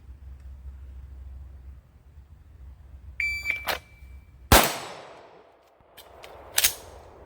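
A shot timer beeps once at a handgun range. Several sharp handgun shots follow, one loud close crack and then a few more spaced out over the next couple of seconds, with quiet between them.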